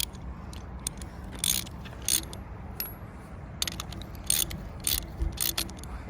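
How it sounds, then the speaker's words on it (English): Metal lifting eyes being screwed into threaded holes in a concrete shuttering panel, a series of light clinking, ratcheting metallic clicks in irregular bursts, fairly close and quiet with no talking. "We'll just clean the holes now and then screw the lifting eyes in."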